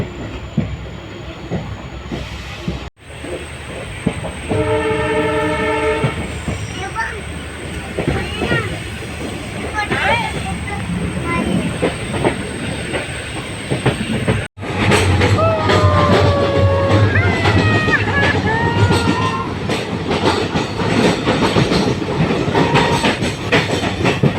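Passenger train running along the route near Dudhsagar toward Belagavi, heard from inside a carriage: a steady rumble and rolling wheel noise throughout, with brief dropouts, squeals and clicks, under faint voices.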